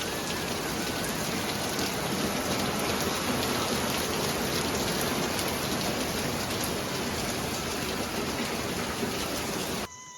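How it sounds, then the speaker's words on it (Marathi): Heavy, steady downpour near hills, a dense continuous hiss of rain hitting surfaces that stays loud and unbroken for ten seconds before cutting off abruptly. "किती मुसळधार पाऊस चाललाय पहा आणि कंटिन्यू असंच चालू आहे"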